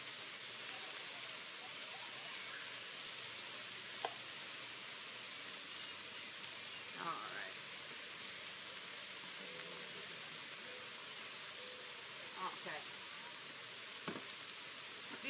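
80-20 beef burgers fry on a 36 inch flat-top griddle, giving a steady, even sizzle and hiss throughout with faint occasional pops, and no voices.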